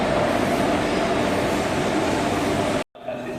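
Express train standing at a station platform, a steady loud rumble and hum of the train that cuts off abruptly near the end before quieter ambience resumes.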